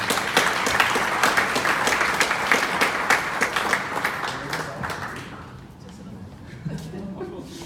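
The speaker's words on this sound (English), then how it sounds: "let's give a big round of applause for our panelists" An audience claps for a panel of speakers at an evening event, the applause brisk and full for about five seconds before fading into scattered claps and quiet murmuring.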